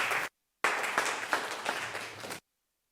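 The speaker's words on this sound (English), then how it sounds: "Another round of applause, please." A short burst of audience applause, a brief cutoff, then a longer round of steady clapping from a crowd before it stops abruptly.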